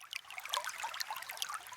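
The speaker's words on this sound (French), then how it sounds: "Voici le bruit de l'eau dans un ruisseau." Water flows in a woodland stream with a soft, continuous trickle and bubbling, steady and fairly faint throughout.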